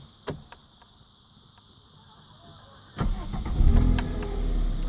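A 1996 Toyota Starlet 1.3 Sportif engine starts after a brief click and quiet pause, catching with a sudden rumble and then settling into a steady, close idle.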